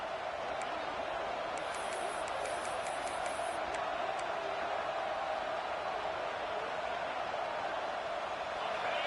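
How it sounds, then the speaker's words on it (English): A large football stadium crowd at a Georgia vs Clemson playoff game roars steadily from a distance, a continuous wash of cheering noise with a few faint whistles early on. "this crowd is fired up. Listen to this noise here."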